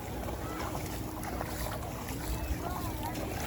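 Sea water lapping and washing around a kayak out on the ocean, a soft steady wash mixed with wind noise, faint and continuous, with no clear talk.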